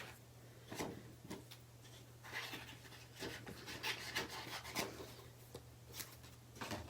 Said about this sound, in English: you just turn your paper and let your scissors do the cutting